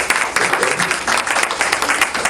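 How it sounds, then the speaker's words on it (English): Brief burst of audience applause at a Bhagavatam talk in a cultural center, dense clapping from many hands, fairly loud and continuous. "A big round of applause to Shyam Prabhu."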